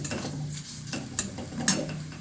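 Masoor lentils dry-frying in a pan make a soft, continuous sizzle close by, with a few crisp scrapes and knocks of the spoon as they are stirred.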